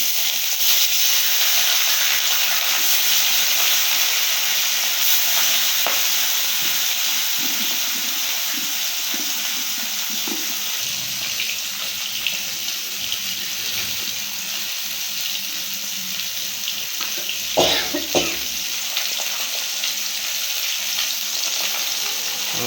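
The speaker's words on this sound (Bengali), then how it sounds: "পর্যাপ্ত পরিমাণে গরম হয়েছে মাছ ছেড়ে দিলাম" Turmeric-and-salt-rubbed tilapia and sarputi fish fry in a hot wok, a loud continuous sizzle and spitting hiss that holds for a long stretch, with occasional clatter and no talking.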